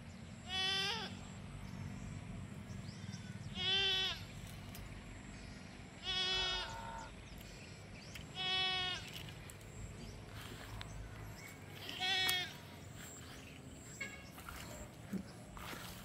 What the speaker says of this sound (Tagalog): Konti pa lang yung mga anak sa ating kambing.